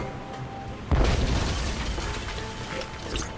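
A cannon fires in the adventure game Tales of Monkey Island, a single deep boom with a crackling burst that trails off into a rumbling decay.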